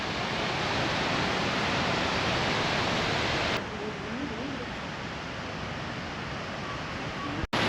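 A waterfall pours near water mills in Germany, producing a steady, loud, close broadband roar that dips slightly in level partway through and continues evenly to the end.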